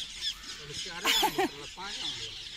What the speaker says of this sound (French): Ah, il y a beaucoup d'oiseaux.